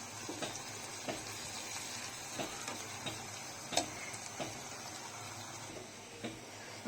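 Chapa shutki, dried fish, fries with spices in a pan, giving a soft, steady sizzle broken by periodic light ticks and scrapes of stirring, close and fairly quiet with no voices.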